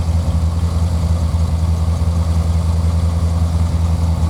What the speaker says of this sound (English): I think with the cats removed, the factory exhaust sounds pretty good on it